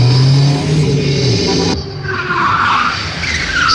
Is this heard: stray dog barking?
no